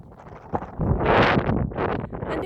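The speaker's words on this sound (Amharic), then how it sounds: "ኧረ ንፋስ አለ ግን" Strong wind sweeps across a high mountain gorge near Dessie, rising into a loud, rushing gust that buffets the microphone, then easing into steady, noisy blowing.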